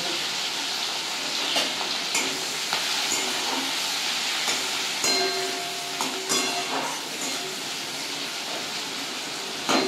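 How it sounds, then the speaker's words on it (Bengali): Sliced onions hiss and crackle in hot oil for an egg, poppy seed and onion curry, a dense continuous sizzle with small pops and occasional clinks throughout. "এবার আমি ওই তেলের মধ্যে পেঁয়াজ দিয়ে দেব।"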